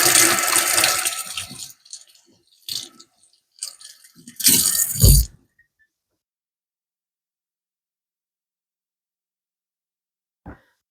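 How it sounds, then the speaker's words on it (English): A kitchen tap runs while hands are rinsed, a close, splashy burst that breaks into short intermittent splashes, then stops into silence, with one faint knock near the end. "Let me rinse off my hands."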